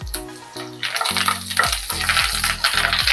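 Cumin, mustard seeds and curry leaves sputter in hot ghee for sabudana khichdi, a dense, continuous crackle and hiss with a steady tonal hum underneath.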